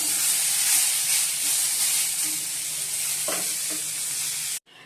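Onions sizzle loudly in a hot pan with a bright continuous hiss and a few scraping stirs, up close, before cutting off abruptly at the end.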